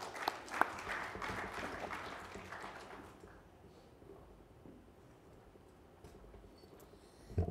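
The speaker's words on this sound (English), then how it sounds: "Can we have a very warm round of applause uh, for Kylie Watson from PwC?" An audience at a cybersecurity conference applauds a speaker from PwC, a crowded burst of clapping for about three seconds that fades, then quiet room tone with faint movement and a few stray sounds at the end.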